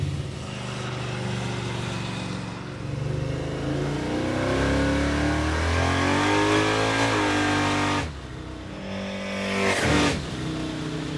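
A Crusher Impala drag car drives with its engine revving up and climbing through the gears, running loud and close with a sharp shift break and a renewed surge near the end.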